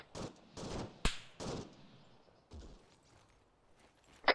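Scattered gunshots in an Arma military game, a few loud sharp reports early on, then quieter distant cracks and a final close shot, separated by near silence.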